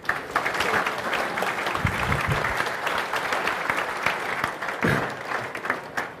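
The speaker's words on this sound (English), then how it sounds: "So a big round of applause for Vincent." A conference audience gives a round of applause for a speaker before a security talk, steady dense clapping from a room full of people lasting about six seconds.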